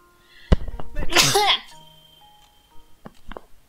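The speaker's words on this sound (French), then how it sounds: "Je vais éternuer à tout moment." A single loud sneeze bursts out after a short breath in, followed by a few soft murmurs and small sounds.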